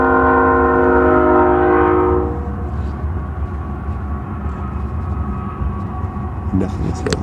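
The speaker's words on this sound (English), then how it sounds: "See the train?" A train passes under a bridge at night: a loud multi-tone horn sounds for about two seconds, then the heavy continuous rumble of the passing train fills the rest.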